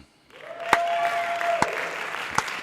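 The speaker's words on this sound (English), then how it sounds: "I feel the slow clap sequence happening." A slow-clap sound effect: three loud, separate claps land at a measured pace, with a thin sustained tone humming beneath them.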